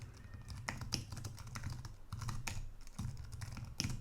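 Keys clatter on a computer keyboard as a database query is typed, steady bursts of close, crisp clicks with brief pauses and no talk.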